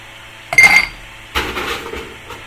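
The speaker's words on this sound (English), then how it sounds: "Right, fresh ice in your rocks glass." Ice cubes dropped into a rocks glass for a raspberry rum cocktail, two sharp clinking bursts with a brief rattle after each, close and clear.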